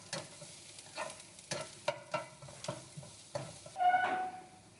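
Dried chilies fry over low heat in oil in a wok for mamak-style Maggi goreng in Malaysia. A soft sizzle runs under repeated rhythmic scrapes and stirs, with a brief louder hiss near the end.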